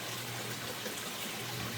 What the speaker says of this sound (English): flowing water.